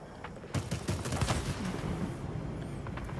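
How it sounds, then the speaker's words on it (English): Aircraft guns in World of Warplanes, flown in a Supermarine Swift, fire in dense rapid bursts that run continuously after a short lead-in, loud and close over engine drone. "you've got to be able to hit with the guns"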